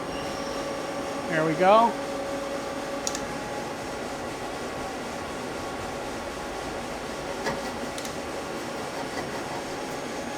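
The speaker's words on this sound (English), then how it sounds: "let's turn the spindle on, like 300 RPM" A Mazak T-2/T-3 CNC lathe spindle turns at about 300 RPM while facing a part, giving a steady mechanical hum beneath a brief spoken remark and a short chirping tone.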